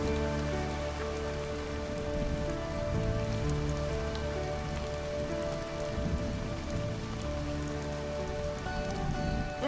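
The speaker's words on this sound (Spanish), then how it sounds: "¡Es un milagro! ¡Es lluvia!" Rain falls steadily on a surface, a dense, soft patter that continues without a break, fairly quiet and low, under a faint tonal hum.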